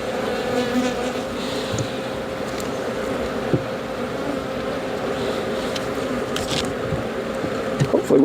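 Honey bees buzz steadily around an open horizontal hive during an inspection, a dense continuous hum close by with occasional individual bees whizzing past and faint handling clicks.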